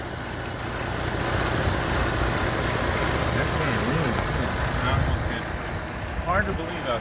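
A 2006 Chevy Trailblazer engine idles after an AMSOIL Power Foam cleaning, a smooth, even hum heard up close, with faint background voices near the end.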